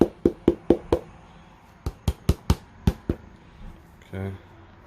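Sharp knocks of a suede sneaker being tapped to shake off excess repair material, a quick run of five raps, a pause, then six more, close and distinct, followed by a brief muffled rustle.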